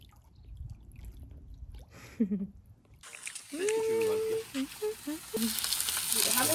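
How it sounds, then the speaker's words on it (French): Merguez and other sausages sizzle on a plancha grill during a holiday with friends in La Rochelle. The sound is quiet at first, then becomes a loud, steady frying hiss, and voices chatter over it. "Parce que là on a commencé sur les merguez et les saucisses."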